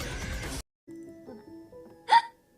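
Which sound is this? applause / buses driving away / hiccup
hiccup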